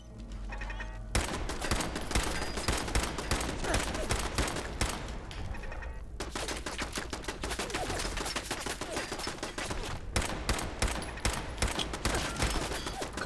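Rapid bursts of automatic turret gunfire in Fallout 4, loud and dense, running in sustained volleys with brief pauses between them.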